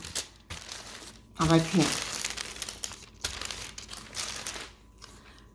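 Biscuit dough rolled between sheets of parchment paper makes crinkly paper rustling, loudest in one burst early on and then softer, with a person talking throughout.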